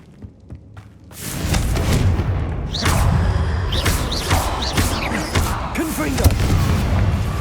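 Confringo fire spell in Hogwarts Legacy bursting with a deep booming roar that swells after a quiet start and rumbles steadily, with whooshing spell effects and voices cutting through during combat.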